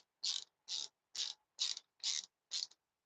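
A zip tie ratchets tight around a motorcycle front brake line on a 2001-2007 Kawasaki KLX250R/KLX300R, six short, crisp zipping pulls in a steady rhythm, close and alone.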